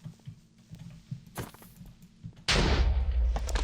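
A Minecraft creeper explodes in a single loud, sudden blast partway through, after quiet footsteps and small game clicks, and a dense roaring rumble continues right up to the end.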